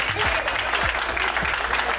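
Office staff clap together in a loud, brisk burst of applause close by, the dense clapping sustained throughout with a few sharper hits standing out.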